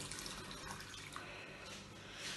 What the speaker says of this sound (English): So all we need to add now is a litre or 480 mils of water. So we're just going to very carefully pour that in.